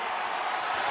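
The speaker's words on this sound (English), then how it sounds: "Listen to this crowd." Basketball arena crowd at the 2018 Big East Championship between Providence and Villanova, a loud, continuous wash of cheering that fills the whole second with no clear individual voices.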